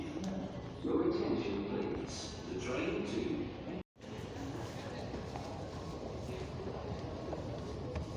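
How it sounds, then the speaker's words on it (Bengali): A Dubai metro station platform carries a public-address announcement voice under a roomy echo, with steady station hum and faint background clatter. A brief dropout splits the clip midway. "এবার তো শুনতে পাচ্ছেন কন্টিনিউয়াস অ্যানাউন্সমেন্ট হতে থাকে কোন প্ল্যাটফর্মে ট্রেন আসতেছে, কোথায় যাবে"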